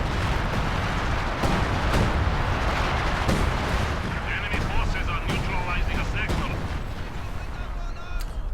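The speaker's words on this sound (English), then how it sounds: "105mm artillery dropped there" 105mm artillery shells strike in Company of Heroes 2, heavy booming impacts and gunfire thudding over a dense, loud battlefield din, with a commentator talking throughout.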